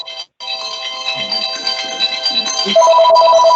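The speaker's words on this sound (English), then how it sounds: "Someone's receiving a phone call." A telephone ringtone plays during a board meeting, a repeating electronic melody that starts after a brief gap and grows louder toward the end, heard alone in the room.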